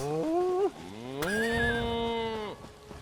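Cows mooing in the Elder Scrolls Online video game: a couple of long, drawn-out bovine moos, loud and close, heard alone without talk.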